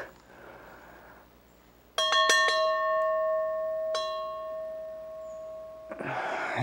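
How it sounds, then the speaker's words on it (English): A small bell at a cemetery along a hiking trail near the Polish-Slovakian border is struck softly several times in quick succession, then once more. Its ringing tones decay slowly in quiet surroundings before a rustling noise comes in. "And here is the bell, which I'm a little hesitant to ring."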